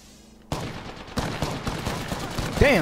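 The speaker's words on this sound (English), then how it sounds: "Damn, somebody shooting you in the back." Gunfire in an online battle royale shooter match, a dense burst of rapid shots starting abruptly and continuing as loud crackling volleys, with a brief whining electronic tone near the end; no speech.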